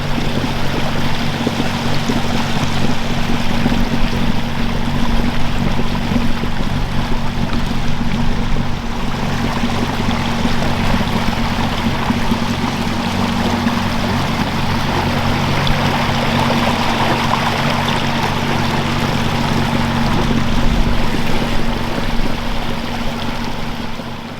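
Torqeedo Travel S electric outboard motor pushing a boat through water, a steady, continuous wash of churning water and hull noise under a low, even hum, with no talk throughout.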